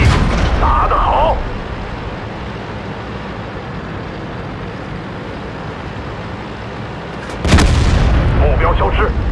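A Type 59 tank cannon fires in World of Tanks: one loud booming blast opens with a rumbling tail, and a second heavy shot hits about seven seconds later over a steady low engine drone.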